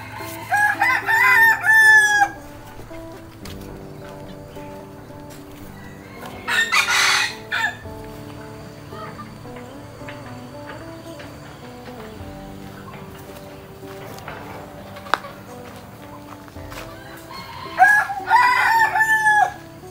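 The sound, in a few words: rooster crowing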